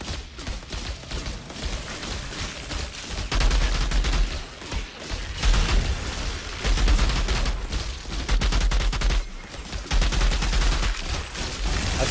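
A gun fires in the video game Outriders, loud sustained automatic bursts in rapid succession with short pauses between volleys and heavy booming impacts.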